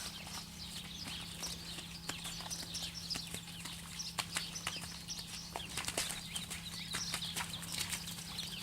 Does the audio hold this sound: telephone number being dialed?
no